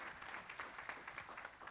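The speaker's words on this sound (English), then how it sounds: "May you please give a round of applause for our sponsors and partners." Applause from a conference audience at the Eswatini Green Indaba 2024, honoring sponsors and partners; steady, fairly faint clapping spread across the room for under two seconds, with no voice over it.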